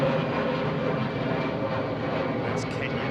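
A Kenya Airways airliner taxis along a taxiway at London Heathrow Airport near runway 09R, giving off a continuous, broad engine rumble and roar that holds fairly steady at a moderate distance.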